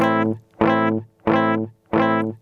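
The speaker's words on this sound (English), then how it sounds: "This is going to be a lot of feedback or a lot of regeneration." Four evenly spaced distorted guitar chord echoes from a Boss DD-7 delay pedal set to high feedback, each repeat nearly as loud as the last, pulsing steadily in a regular rhythm.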